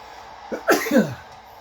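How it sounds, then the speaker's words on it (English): One sharp sneeze bursts out in a quick two-part rush of breath, close and fairly loud, against a quiet background. "I am about to sneeze."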